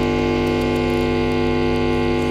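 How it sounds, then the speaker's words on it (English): An electric hum recorded for a noise sample library drones steadily and loudly, a constant buzzing mains tone with rich overtones and no pauses. "Electric bass, hum,"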